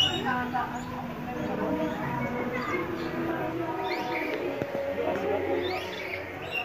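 A noisy bird calls at an ocean park, its repeated chirps faint and mixed into a busy background of crowd chatter and ambient noise.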